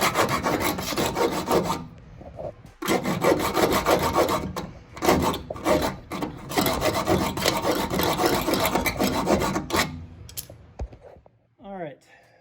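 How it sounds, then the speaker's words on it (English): A hacksaw blade cuts through a Porsche 911 bumperette in steady, rapid back-and-forth rasping strokes, close and loud, with brief pauses between bursts and a short squeak near the end. "hacksaw blade doing its magic"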